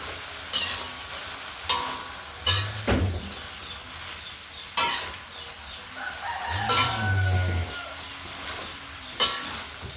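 Water spinach (kangkung) being stir-fried in a pan, with sizzling broken by repeated sharp scraping and clanking strokes from a spatula, while a rooster crows in the background.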